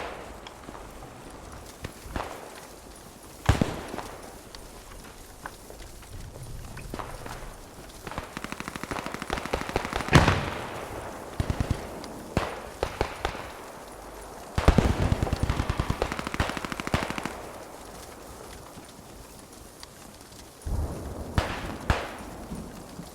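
Machine gun emplacement firing in a trench warfare video game, heard as scattered bursts and sharp gunfire cracks among other battlefield noises, fairly loud with uneven gaps.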